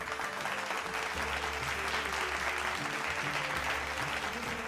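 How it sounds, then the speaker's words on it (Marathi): Sustained audience applause at a Mangalagaur women's group performance event, steady dense clapping filling the whole stretch with a low hum of music or crowd beneath. "जोरदार टाळ्या"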